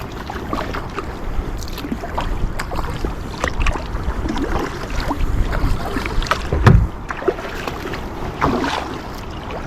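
Kayak out on the open sea at Beadnell Bay, Northumberland, with broadband water sloshing and wind rumbling throughout and irregular splashes of paddle strokes, one stronger splash near the end; no talking.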